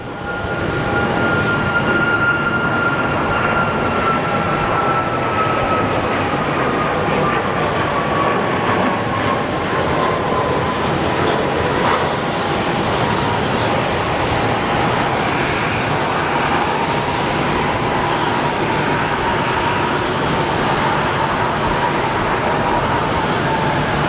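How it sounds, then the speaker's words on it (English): A Southwest airliner takes off at Sky Harbor Airport, its steady broadband engine roar filling the scene at constant loudness, with a slowly falling whine running through it. "let's watch this Southwest that just took off"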